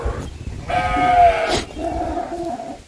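Goats kept at a ramshackle hut bleat nearby: one loud, drawn-out wavering cry, then a softer second bleat trailing off, over faint background noise.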